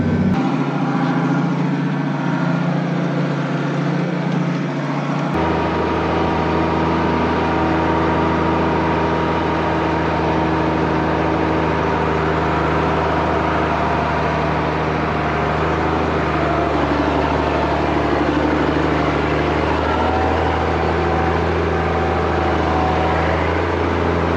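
Nine-ton ex-army Unimog truck driving through sand dunes, its heavy engine droning loud and close with a steady, unbroken rumble throughout, with cabin noise around it.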